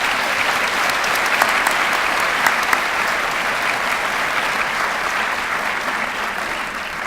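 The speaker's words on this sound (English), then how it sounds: "If we give her a round of applause." Audience at a scholarship awards ceremony gives a sustained round of applause for Dawn, loud and dense clapping from a large crowd that carries steadily for several seconds and eases slightly at the close.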